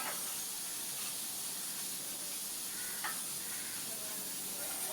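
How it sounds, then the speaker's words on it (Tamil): A pressure cooker lets off a faint, steady hiss of steam while cooking sakkarai pongal, with a couple of brief clicks along the way. "பக்கத்துலேயே விசில் வந்துட்டு இருக்கு."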